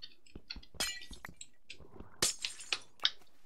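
Glass blocks being placed in a Minecraft-style game, heard as a series of short, crisp clinking clicks, some sharper and louder than others, spaced irregularly and close up with no talking.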